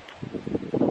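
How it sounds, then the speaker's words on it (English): Gusty wind outside a barn rumbles and buffets in uneven low bursts, growing stronger toward the end, with a faint rustle underneath. "it is quite windy outside"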